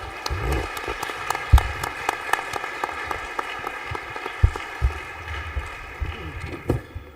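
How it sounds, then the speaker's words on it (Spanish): Audience at an international cybersecurity congress session applauding at the close of a panel, scattered claps with a few sharp louder hits over a low hum, moderately near and irregular. "Un fuerte aplauso."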